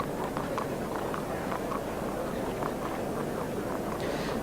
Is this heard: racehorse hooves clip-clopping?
yes